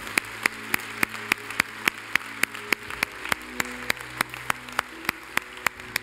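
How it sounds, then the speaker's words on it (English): Church congregation applause sounds as sharp, evenly spaced claps, like one or a few people clapping near the microphone in a steady rhythm, over a soft background hum. "Can you give them a fantastic applause?"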